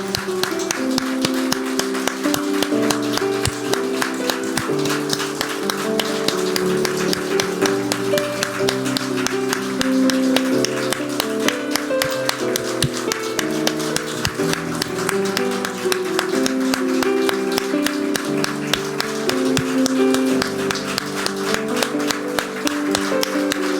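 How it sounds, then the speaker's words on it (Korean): A church congregation at a Sunday service claps steadily through a gift presentation, a dense, continuous patter of many hands over music-like tones, loud and unbroken throughout. "선물 전달 끝날 때까지 큰 박수를 우리 함께 좀 박수하도록 하겠습니다."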